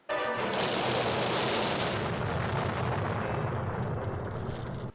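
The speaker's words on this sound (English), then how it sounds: "this is followed up by a pretty ludicrous, but also kick-ass car explosion" A massive, sustained explosive roar of a car explosion in a 1987 horror film fills the whole clip, a dense booming blast that stays loud for several seconds before cutting off.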